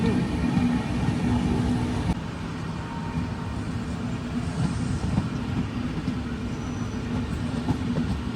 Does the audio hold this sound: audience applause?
no